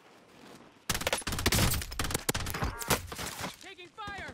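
Rapid gunfire bursts in Call of Duty: Warzone, loud, dense volleys starting abruptly and rattling on for several seconds before thinning into scattered shots, with game voice chatter mixed in.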